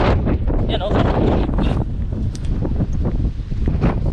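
Strong wind buffets the microphone beside a roadside, a continuous low rumbling roar with gusty swells, loud and close throughout, with a voice speaking over it.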